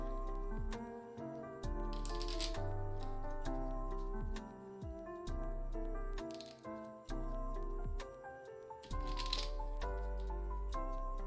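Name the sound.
shuffling three stacks of board game cards together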